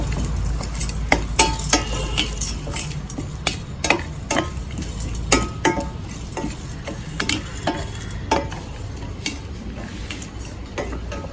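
Whole spices dry-roasting and stirred in a pan for a parotta salna masala powder: repeated sharp scraping clicks of the spoon over a soft, continuous sizzle, close and fairly loud, with no talk.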